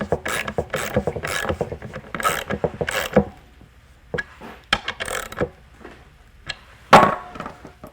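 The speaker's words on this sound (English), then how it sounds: "Grab your ratchet" A ratchet drives a threaded insert into wood, giving bursts of quick clicking pawl strokes in irregular runs with short pauses and a few louder clacks, close and without talk.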